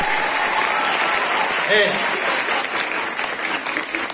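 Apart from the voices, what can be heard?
audience applauding at Teachers' Day school program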